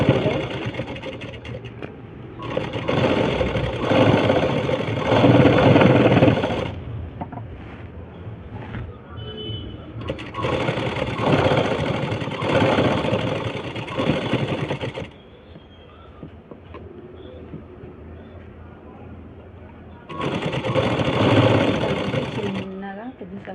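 Sewing machine stitching along a dress shoulder during an alteration to make a wide shoulder smaller, running in three loud bursts with quieter pauses between, while a person talks throughout.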